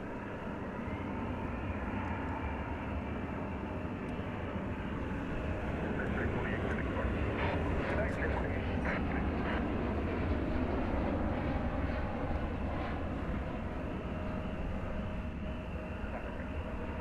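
A Boeing 737-800 airliner arriving at DFW airport from Puerto Vallarta, Mexico, gives a steady, fairly distant jet roar that holds throughout, with voices faintly audible beneath it.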